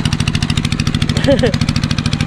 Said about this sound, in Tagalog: maingay yung tawag nito, makina